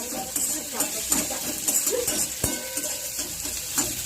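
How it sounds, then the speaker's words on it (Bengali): Finely chopped medium onions sizzle and fry in hot oil in a pan for doi rui, with steady crackling broken by repeated stirring scrapes and utensil clinks. "ছোট পেঁয়াজ, মিডিয়াম সাইজের পেঁয়াজ আমি কুচি করে নিয়েছি, সেটা আমি ফোড়ন দিয়ে দিলাম।"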